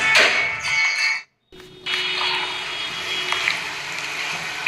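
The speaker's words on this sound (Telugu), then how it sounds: "దీన్ని మిక్సీ పట్టుకుందాము" A home-kitchen mixer grinder whirs loudly as it grinds spice paste with a little water for stuffed brinjal curry, stops briefly, then starts again with a steady high-pitched whine.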